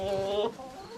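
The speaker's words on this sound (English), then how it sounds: "these two hens just got into a little fight" Farmyard chickens: a hen squawks in a drawn-out, strained call during a scuffle, followed by low clucking nearby, close and fairly loud with no talk.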